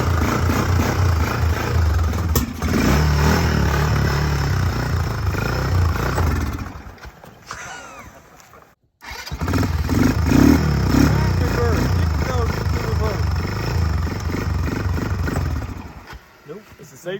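A Kymco 150 ATV that sat unused for over ten years runs and idles in neutral with a loud, steady rumbling drone, dipping briefly before picking back up, with a voice talking over it.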